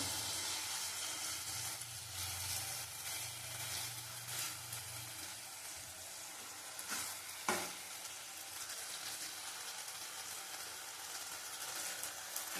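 Eggplant curry cooks in oil in a pan with a little water added, giving a steady close sizzle with stirring scrapes and one brief sharp hiss burst partway through.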